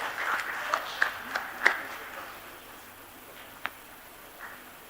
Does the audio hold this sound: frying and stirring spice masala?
no